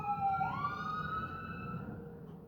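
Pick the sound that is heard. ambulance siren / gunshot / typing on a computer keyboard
ambulance siren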